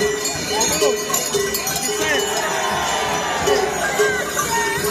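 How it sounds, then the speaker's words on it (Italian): A large carnival crowd fills a town square in Ula Tirso, Sardinia, with continuous cheering, clapping and clanking cowbells, while scattered voices and shouts rise through the dense, steady din. "Il pubblico applaude"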